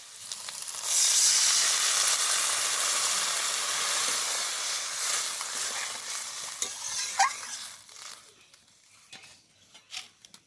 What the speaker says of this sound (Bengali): এবার এর ওপর জল দিয়ে দেবো।